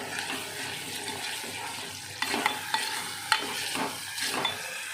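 A ground mixture cooking in ghee in a pan, a soft continuous sizzle broken by several sharp scraping and stirring knocks, close and moderately quiet, with nobody speaking.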